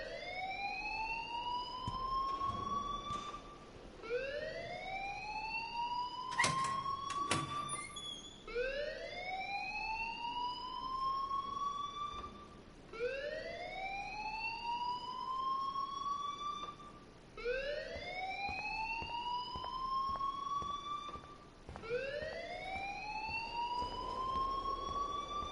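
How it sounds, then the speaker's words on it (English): An alarm wails on and off in the video game Life is Strange, a rising siren tone repeating roughly every four seconds for the whole stretch, with a brief clattering burst early on and no speech. "please turn off that alarm since that's your job"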